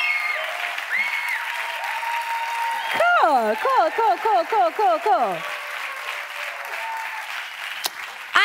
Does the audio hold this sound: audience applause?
yes